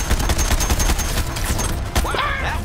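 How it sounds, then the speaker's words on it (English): Single-fire sniper rifle shots in the Suicide Squad video game, a dense run of sharp loud blasts in rapid succession over rumbling game action, ending with a brief whirring electronic effect. "But it's a single fire sniper."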